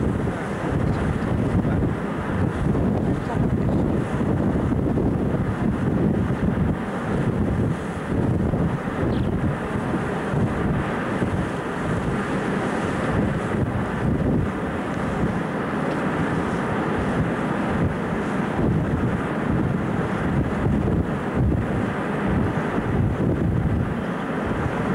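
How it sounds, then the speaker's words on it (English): Steady wind roars over a cruise ship deck as the ship moves slowly into a bay, a continuous broadband rush with buffeting against the microphone and no speech. "The wind is blowing."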